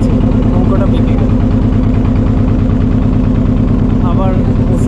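A motorboat engine chugs steadily and loudly on a river near the Bangladesh border as the boat veers, with voices briefly audible over the running motor.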